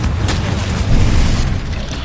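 A fiery Confringo spell blast from the Hogwarts Legacy game erupts in a loud, dense burst, with a booming rumble that swells and fades over about two seconds and no voice.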